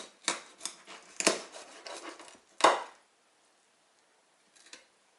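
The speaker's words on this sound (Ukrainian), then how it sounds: "звідси відділяємо хребет. Ось так відрізаємо." Knife cutting the backbone out of pieces of silver carp, a few sharp crunching cuts and scrapes close by, then a pause and a faint final scrape, with no speech.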